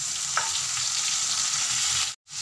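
Finely chopped tomatoes sizzle loudly in a pan already holding garlic and cumin, a bright continuous frying hiss with a brief stirring scrape, cutting out sharply near the end.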